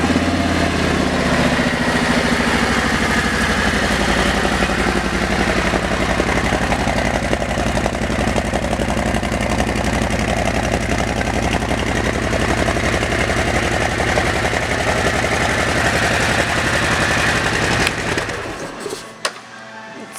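A red 2017 Harley-Davidson Street Glide's V-twin engine runs loud and close with a steady, rumbling idle for about eighteen seconds, then cuts off, leaving quieter noise and a few small clicks.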